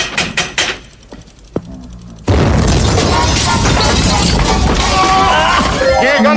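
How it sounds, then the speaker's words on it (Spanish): A big explosion erupts suddenly as a loud broadband roar after a few sharp knocks and voices, then sustains a dense rumbling, crackling wash for several seconds with a person shouting over it. "¡Qué grande explosión!"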